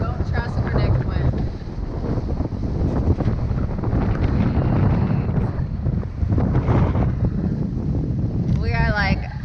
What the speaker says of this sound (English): the waves are getting huge, so don't trust predict wind.